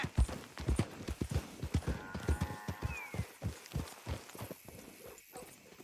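Horse hooves gallop in a quick rhythmic clip-clop across a trail in Red Dead Redemption 2, loud and close, with a faint whinny and game ambience underneath.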